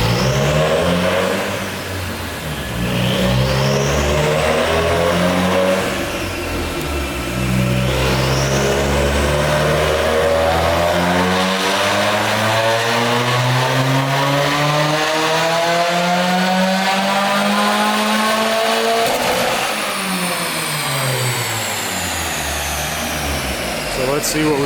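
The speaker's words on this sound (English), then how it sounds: "we're about to run the car on the dyno" Subaru WRX engine run on a dyno, loud and close, climbing steadily through the revs in a long sustained pull with gear changes and rising harmonics, then dropping off near the end.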